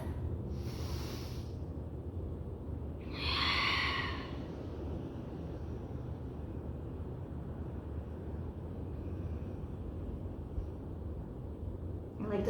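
During a meditation exercise, a couple of slow, deep breaths rise as soft airy whooshes over a constant low background hiss, with long still gaps between them.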